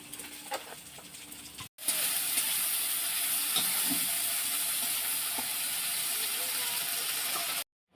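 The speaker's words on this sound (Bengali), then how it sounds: "দিদির জন্য রান্না করছিল কালিজির ফোড়ন দিয়ে একটা সবজি" Vegetables sizzle and fry in a pan with a nigella seed tempering, a dense, steady hiss that starts abruptly after a short quieter stretch and holds loud and close until it cuts off near the end.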